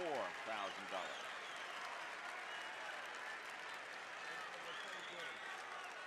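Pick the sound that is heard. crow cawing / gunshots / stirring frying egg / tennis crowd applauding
tennis crowd applauding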